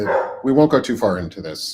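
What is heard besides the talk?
dogs barking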